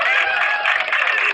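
A crowd at a heated religious debate claps steadily, a dense, loud wash of applause that holds at the same level for its short length.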